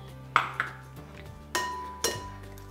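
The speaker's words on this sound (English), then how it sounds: "going to crack 4 eggs." Four eggs cracked one after another against a bowl for a lemon shortbread slice, giving sharp, close clinks and taps spaced apart, with a faint ringing after each strike and no voices.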